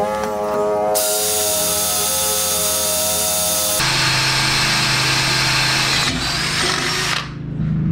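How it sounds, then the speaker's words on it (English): Electric drill boring holes in a steel strike plate for a 7.25-inch gauge steam locomotive pony truck, loud close whine that starts, shifts pitch under load, restarts and spins down at the end. "we just use a normal drill to drill the holes"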